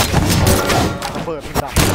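Explosions in the Brawlhalla fighting game, booming thuds and bursts amid busy game effects, with a player talking excitedly over the action.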